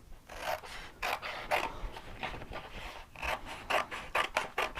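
Scissors cut through a stencil in repeated short, rasping snips with a steady rhythm, close and fairly quiet, with no talking.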